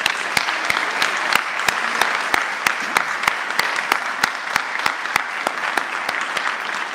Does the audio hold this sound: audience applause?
yes